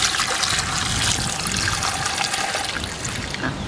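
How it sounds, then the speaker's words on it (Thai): Water pours steadily into a pot while mushroom and luffa curry is being cooked, a continuous close splashing stream with no pause. "นี่น้ำใส่จ้ะ"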